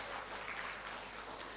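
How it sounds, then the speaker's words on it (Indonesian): Audience applause for university lecturers newly promoted to senior lecturer rank at a rector's year-end address, a steady, fairly quiet wash of clapping from a hall crowd with no voices over it. "Kita berikan tepuk tangan kepada mereka."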